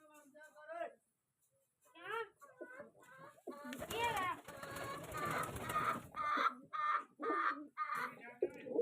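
Pigeons coo from wooden cages in a pigeon loft while being fed grain, with soft repeated calls mixed in among people talking and a busier stretch of noise midway.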